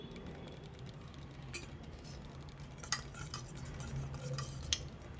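A curd mixture is poured into a pan and stirred, giving quiet scraping and clinking of a utensil against the metal, with a few sharper taps and a soft background hiss.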